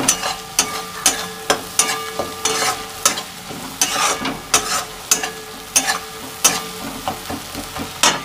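Food frying in a pan with a soft background sizzle, broken by regular sharp scrapes and clinks of a spatula stirring close up, about two each second.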